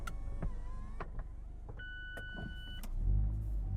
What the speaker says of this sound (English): Roof up happens pretty quickly.